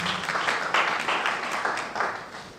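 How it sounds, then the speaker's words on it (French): An audience claps at a diploma ceremony for the Club des comptables du Sénégal, a moderate stretch of scattered clapping with bursts rising and falling, heard alone. "On l'applaudit, s'il vous plaît."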